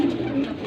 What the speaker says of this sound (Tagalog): Ang dami ng kalapati ni Jan